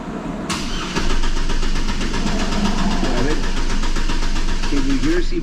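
Car engine repeatedly cranking without catching after a remanufactured PCM was installed, a loud, rapid, steady starter whir lasting several seconds in a repair shop, with a voice talking over it.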